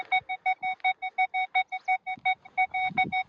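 Metal detector in multi-frequency mode sweeping over black soil, giving a rapid series of about fifteen short, clear electronic tone beeps in regular rhythm, loud and close.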